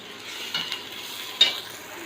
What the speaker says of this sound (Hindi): और प्याज को भी हम लाइट ब्राउन कर रहे हैं।